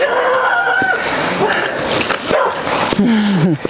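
A young dog yips and barks excitedly up close, with whiny, high-pitched cries mixed among the barks.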